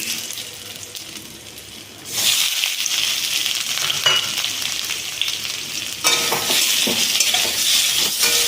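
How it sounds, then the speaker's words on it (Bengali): Potatoes frying in hot oil in a home kitchen, a steady close sizzle that swells louder as more food hits the pan, with stirring scrapes and no talk. "এবার আমি আলুটা ভেজে নেব"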